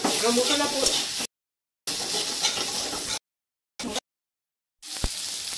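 Spices sizzle and fry in hot oil in a pan for a pumpkin curry, a steady close crackle with stirring scrapes, broken by abrupt silent gaps and ending with a sharp utensil knock.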